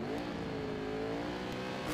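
Open superbike engines rev steadily at the start of an AFM 2014 Round 5 race, a continuous, fairly faint droning rise with no voices.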